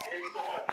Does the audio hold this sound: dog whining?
yes